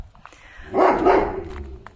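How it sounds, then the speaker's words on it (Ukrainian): Dogs barking in a garden, a short burst of several overlapping barks in the middle, moderately loud and not far off, with quieter yips before and after. "Собаки десь там."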